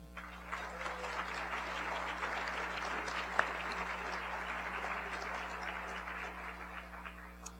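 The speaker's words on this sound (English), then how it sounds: "Please join me in a warm round of applause for all of them." Steady applause from an audience at a City Club of Portland civic forum, many hands clapping evenly at moderate level for about seven seconds over a low mechanical hum.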